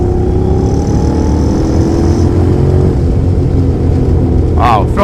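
Honda NC750X motorcycle ridden on a race track, its engine droning loud and steady throughout with a slight rise near the end, plus wind rush.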